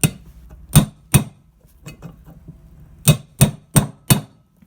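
A socket is hammered against the old swingarm bearing race of a 1982 Harley FLH, giving about eight sharp metallic blows in irregular clusters, close and loud with no talk.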